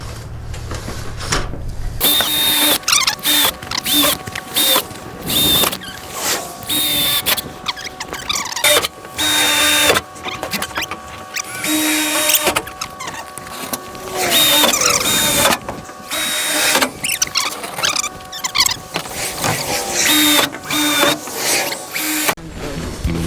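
A drill bores through metal roofing panels in repeated whining bursts of a few seconds each, loud and close, separated by short pauses.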